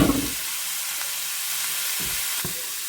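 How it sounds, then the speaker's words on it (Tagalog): Garlic sautés in a pan outdoors, a steady close sizzle and hiss with a few light stirring knocks. "Nagginisa ako ng konting bawang."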